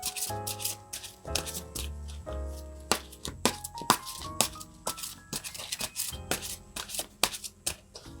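Tarot cards shuffled and drawn by hand, with crisp riffling bursts and sharp snaps of cards slapped down in an uneven rhythm, close and fairly quiet with no talking.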